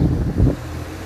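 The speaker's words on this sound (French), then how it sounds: "Il y a beaucoup de vent." Strong wind by a riverside blows in a brief low rumbling gust against the microphone, loud at first then easing to a steady, softer rush.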